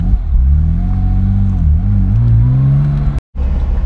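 A 2006 Porsche Boxster S (987) pulls away loud and close, its engine note rising and falling through the revs with a sharp break near the end, and no voices.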